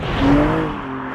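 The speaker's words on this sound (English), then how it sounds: "The engine is very, very smooth and refined. It's not got that goose pimply kind of soundtrack that you got in the old days, but it is purposeful." A BMW M3 Touring with a 503 horsepower engine hums smoothly while driving, a brief, fairly loud rising engine note heard from inside the car with no talk.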